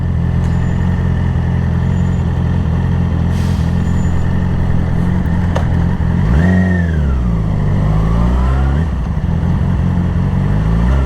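A Yamaha R6 motorcycle cruises on a highway with a steady loud engine drone under wind, then its pitch swoops up and down as the rider shifts and the revs change.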